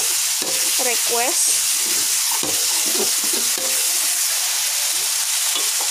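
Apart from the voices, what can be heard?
frying food sizzling in a pan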